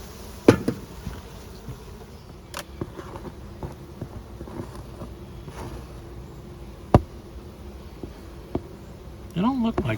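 Honeybees drone softly around a hive low in population, a faint continuous hum broken by a few sharp taps and knocks close by, with a brief voice-like sound at the end.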